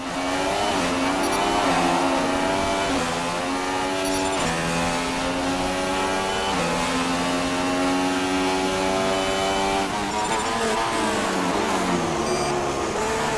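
Formula 1 race car engine in the F1 2016 video game during an Australian Grand Prix practice session, screaming loudly and steadily, with the pitch dropping in sharp steps as it shifts down through the gears, then climbing again.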